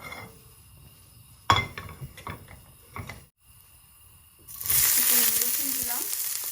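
A little mustard oil goes into a pan for a black cumin bhorta. A few soft clinks and quiet handling are followed by a sudden, loud, steady sizzle that continues to the end.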